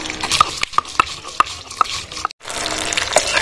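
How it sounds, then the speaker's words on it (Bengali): Bata fish frying in oil in a pan for a mustard-poppy seed curry, a crackling sizzle with a series of regular sharp taps and scrapes, briefly cut off before resuming. "মাছগুলো এইভাবে ভেজে নিতে হবে।"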